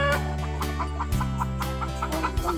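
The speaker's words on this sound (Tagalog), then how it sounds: "May ganda putak na. Ba't pumuputak?" A farm hen cackles in a rhythmic run of repeated clucking calls, loud and close, with a steady low hum underneath and no talking.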